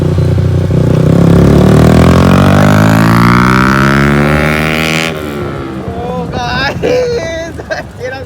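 A Yamaha R15 V3 and a TVS Ntorq scooter race side by side on a road. Engines rev loudly and rise in pitch, then fade as wind rushes past the mic, and someone talks over the end.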